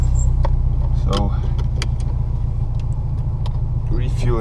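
Steady low engine and road rumble from a car cruising through Tallinn, Estonia after refueling, continuous and close inside a hot cabin with windows shut, with brief voice fragments and small interior clicks above the drone.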